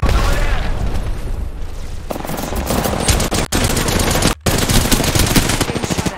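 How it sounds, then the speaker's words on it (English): Automatic weapons fire rapidly and loudly in the online battle-royale shooter Apex Legends, dense bursts of close gunshots and booms running nearly without break. "Getting shot at."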